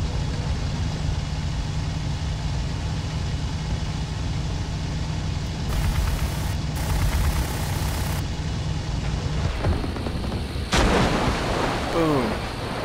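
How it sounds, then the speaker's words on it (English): Enemy gunfire and flak in the IL-2 Sturmovik flight game over Tobruk, a steady roar of engine and dense rumbling fire with bursts of brighter crackling hits toward the end, loud and continuous. "These guys are still shooting at me like crazy."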